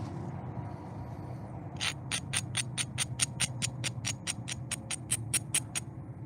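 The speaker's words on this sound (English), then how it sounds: "Alright, I'm gonna grind this some more." A flintknapping rock being ground by hand, heard as a steady run of sharp, evenly spaced scraping strokes, about three per second, that starts after a quiet moment and carries on over a low background hum.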